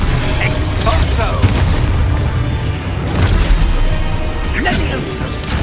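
Exposo explosion spell cast in the Hogwarts Legacy video game, a loud booming blast with crashing impacts and bursts repeating across a busy combat scene.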